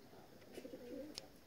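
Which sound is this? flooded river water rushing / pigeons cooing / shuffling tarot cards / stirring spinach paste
pigeons cooing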